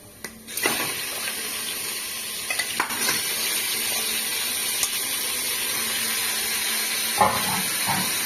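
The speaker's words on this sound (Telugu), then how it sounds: "అవి ఉల్లిపాయలు పచ్చిమిరపకాయలు వేగిపోయి కదా" Onions and green chilies sizzle in a pan with a steady, bright hiss, broken by a few clinks and stirring sounds and growing a little louder near the end.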